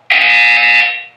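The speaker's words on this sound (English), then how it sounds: "That buzzer is loud." A loud electronic buzzer from the video game Portal 2 blares in one sustained, harsh tone for about a second and then cuts off abruptly.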